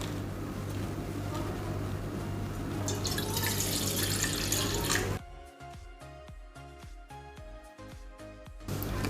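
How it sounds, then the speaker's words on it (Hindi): Half a glass of water poured into a pot heating on a stove, a steady rushing splash for about five seconds, then quieter dripping and clinking sounds afterward. "अब हम इसमें आधा ग्लास पानी डालेंगे।"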